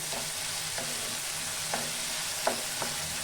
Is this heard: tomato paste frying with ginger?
yes